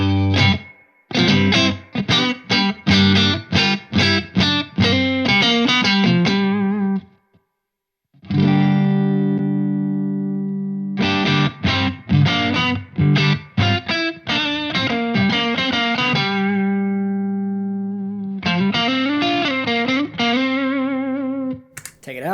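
Electric guitar played through a Wampler Pantheon overdrive pedal, a run of mildly driven picked notes and chords with quick rhythmic phrases, a brief pause, then further riffs and sustained bends, loud and close with no talking.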